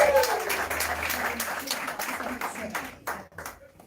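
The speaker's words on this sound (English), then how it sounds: "huge round of applause" Applause from an audience at a business book awards shortlist reveal, a steady mass of clapping across the room that thins out toward the end, with some voices mixed in.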